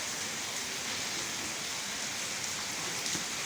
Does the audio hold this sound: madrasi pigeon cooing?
no